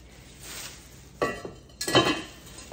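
A blue enamel cast iron pot lid being handled, with a few hard clinks and knocks of heavy metal and enamel close by, two distinct bursts after a quiet stretch.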